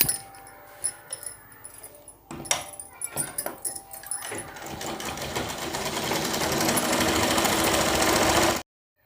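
A sewing machine stitches a folded hem on a four-panel petticoat, starting with a few halting bursts and clicks, then running into a steady, loud, rapid whir before stopping abruptly.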